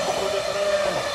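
A train passing near a garden, a loud steady rumble with a sustained whistle-like tone running through the whole short stretch, heard alone without talk.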